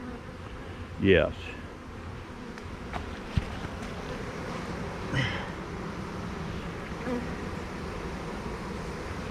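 Honeybees buzz at a bee yard, a close bee swooping past early with a rising pitch, then a fainter pass later, over a low steady drone and outdoor hum, with a brief spoken word.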